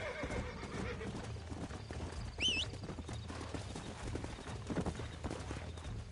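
Horse hooves clatter steadily in Red Dead Redemption while a horse whinnies sharply partway through, set against a busy background of movement.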